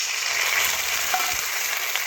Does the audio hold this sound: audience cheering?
no